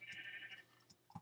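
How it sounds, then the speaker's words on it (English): A Minecraft sheep gives a single short bleat, close and clear, with no voices over it. "A sheep. This is sheep in prison."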